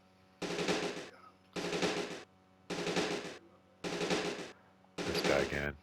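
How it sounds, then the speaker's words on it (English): Machine-gun bursts in a Sega CD video game, five loud sustained volleys about half a second long, evenly spaced with short pauses between. "Somebody shooting, man."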